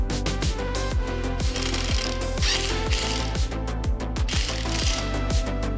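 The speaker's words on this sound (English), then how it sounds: "You can now install the tips using a 10mm socket." A 10mm socket ratchet works rapidly to install AWE exhaust tips on an Elantra N, a dense, fast run of repeated ratcheting clicks, close and continuous.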